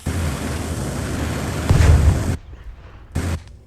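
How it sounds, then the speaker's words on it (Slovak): A firecracker goes off outdoors in a garden: a loud, sharp blast rises out of steady background noise and then cuts off abruptly, followed by a shorter second burst a moment later. "Čo za petardu pre Boha?"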